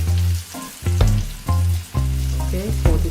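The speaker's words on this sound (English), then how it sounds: "We're going to turn them on the other side, and then we're going to be frying out the rest of it" Flour-coated chicken pieces fry loudly in hot oil, a strong continuous sizzle broken by bursts as pieces are turned or added, with clinks and scrapes close by and no talking.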